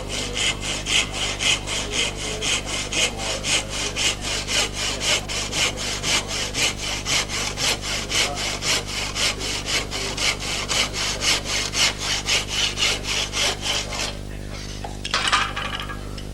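A hand auger boring into wood makes a steady rhythmic rasping scrape, about two strokes per second, close and continuous for around fourteen seconds before stopping with a faint rustle.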